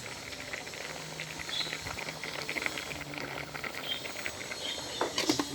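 Mung beans boiling soft in a pot, a steady bubbling and popping simmer that holds close and even throughout with no talk.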